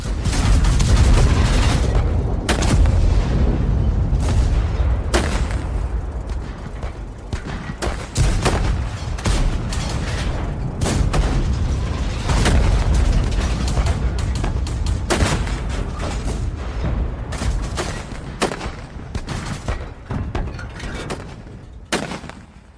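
Flying saucer ray weapons firing with explosions in a radio drama, a dense, loud, sustained barrage of booming blasts and crackling bursts that runs continuously and fills the scene, with no talking over it.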